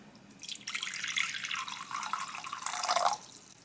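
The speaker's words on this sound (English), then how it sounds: "Next you want 256 grams of lukewarm water." Lukewarm water runs from a kitchen tap during baking, a bright, splashy stream that starts, swells and stops after about three seconds, close and fairly clear.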